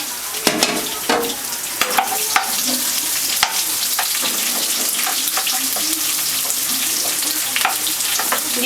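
Onion sautéing in a pan for Bicol Express, a steady close sizzle with scattered clinks and scrapes of stirring, no talk.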